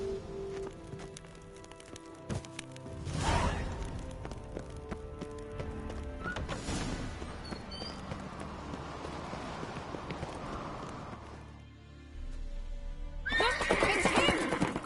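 Horses in The Witcher 3 video game, with loud whinnying neighs near the start and end and galloping hoofbeats thudding between them, set against game music.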